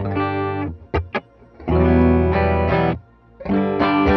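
A Jennings Navigator electric guitar plays short chords and muted stabs, clean and dry with no reverb, EQ or effects.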